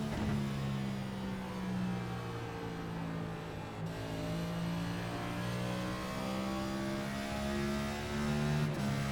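A NASCAR NextGen stock car engine at Richmond in a sim racing game drones steadily and loud throughout, its pitch rising and falling smoothly as the throttle is fed in and eased off, with no talk over it.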